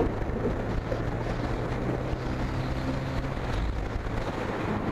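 A TVS Raider 125 motorcycle engine while riding, a steady droning hum mixed with heavy wind rush, continuous and close without any talk.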